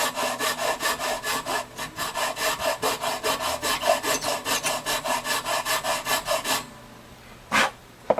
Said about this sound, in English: I'm going to have to file the slots down a little bit.